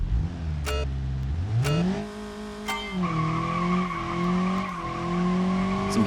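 Car tires skidding and squealing in the BeamNG driving game, a loud sustained screech with a rising, wavering pitch, layered over a revving engine that climbs and holds, close and continuous with no talk.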